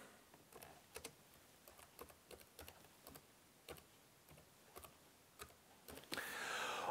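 Text is typed on a computer keyboard into embroidery digitizing software, with quiet, close, irregularly spaced key clicks and a brief rustling noise at the end.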